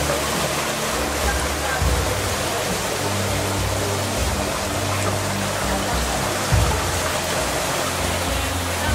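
Water pours steadily out of a drainage tunnel beneath a railway in karst country, a constant broad rushing close by with faint low thumps underneath.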